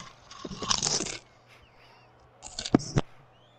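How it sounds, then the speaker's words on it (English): In the Hitman video game, a character chews on a wrapper, giving two bursts of crinkly crunching separated by a short quiet gap, close and moderately loud. "He's chewing on a wrapper."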